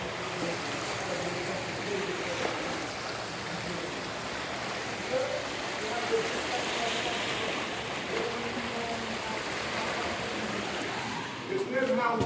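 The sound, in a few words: ocean waves by the slave house in Senegal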